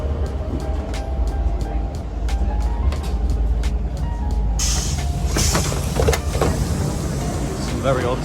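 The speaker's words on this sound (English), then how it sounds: "I'm on one of these really old trains" Rumbling rolling noise of an old Brussels train in motion, with rattling and clicking over the rails and a brief hiss partway through.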